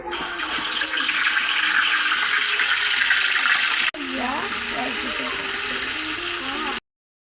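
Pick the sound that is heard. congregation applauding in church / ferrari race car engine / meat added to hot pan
meat added to hot pan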